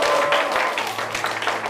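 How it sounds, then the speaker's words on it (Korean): A youth congregation at a church service gives a short round of applause, a thick, even spread of many hands clapping together, fairly close and sustained across the brief moment. "박수 한번 주시고요"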